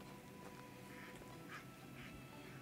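Duck quacking in the medieval survival game Medieval Dynasty, a few soft, short calls spaced through a steady background of ambient game noise, fairly faint and distant.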